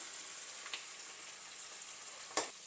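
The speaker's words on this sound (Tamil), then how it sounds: "சிக்கனை ஒவ்வொரு பீஸ் போட்டு ஃப்ரை பண்ணி எடுக்கலாம்" Chicken pieces frying in a pan give a soft, steady sizzle, fairly quiet and continuous, with two brief crackling bursts, one early and a louder one near the end, and no talking.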